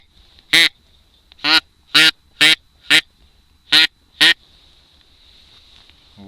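Seven loud, nasal quacks blown on a wooden-style duck hunting call, spaced unevenly, each a short harsh burst against a quiet background.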